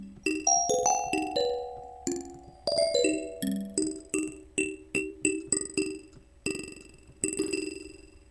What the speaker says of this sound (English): Another technique I like is to use a simple delay and have a very fast time free running.